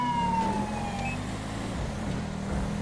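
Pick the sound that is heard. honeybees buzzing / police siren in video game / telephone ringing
police siren in video game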